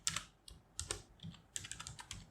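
Fingers type a SQL CREATE INDEX command on a computer keyboard, giving quiet, close clicks in short uneven bursts with brief pauses between them and no voice.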